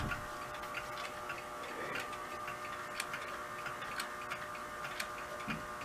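Several clocks in a home clock collection, including a cuckoo clock, tick together in overlapping steady beats, faint but clear in a quiet room, with a few sharper ticks standing out.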